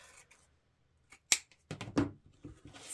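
Scissors snipping through a ribbon tail for a deco mesh wreath, a few sharp close cuts and crisp rustles of ribbon separated by quiet pauses.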